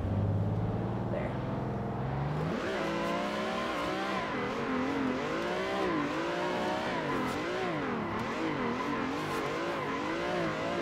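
A racing car in the Assetto Corsa driving game drives its engine to the redline with a loud, sustained, high-pitched whine that rises, then wavers up and down through gear changes and throttle shifts.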